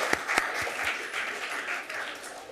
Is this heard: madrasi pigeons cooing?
no